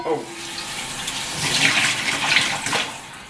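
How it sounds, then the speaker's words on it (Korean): Tap water gushes steadily into a sink while strawberries and other fruit are washed. The stream swells slightly midway and stays close and continuous throughout. "근데 이게 씻혀져 있지 않아서 과일을 씻어 볼 거예요"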